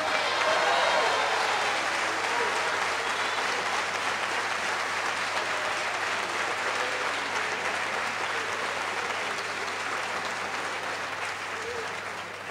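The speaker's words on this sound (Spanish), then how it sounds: "les pido otro gran aplauso" A large audience at a Latin American political or academic gathering delivers long, sustained applause, a dense even roar of clapping that holds for several seconds and slowly tapers.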